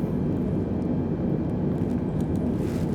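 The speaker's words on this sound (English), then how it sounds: "I'm gonna go ahead and engage more of the flaps" Steady airliner engine drone in the cockpit of an Airbus 320 in Microsoft Flight Simulator during flap extension on approach, a continuous low hum with no distinct mechanical whir standing out.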